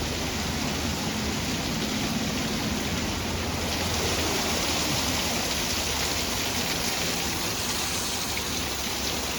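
Heavy rain pours steadily over a village near Junagadh, a loud, dense, unbroken hiss of falling water with no distinct thunderclap standing out.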